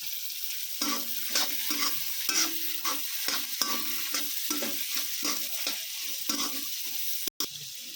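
Fried rice with capsicum is stir-fried in a pan, a spatula scraping and tossing in quick repeated strokes over a steady sizzle, with a brief cut-out near the end.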